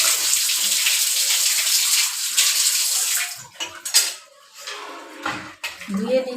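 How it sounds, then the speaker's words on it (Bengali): Ripe mangoes for pickle are washed in water, with a steady rushing splash for about three seconds that gives way to intermittent sloshing and knocks of fruit against a pot, close by. "তারপরে এরকম ধুয়ে নেবেন।"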